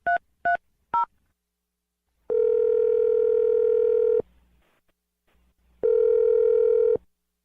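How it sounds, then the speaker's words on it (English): A telephone keypad sends three quick tones to dial a number, followed by two long, steady ringback tones separated by a short pause, clear and close with no talk. "dial Manny's phone number right now and see what he has to say"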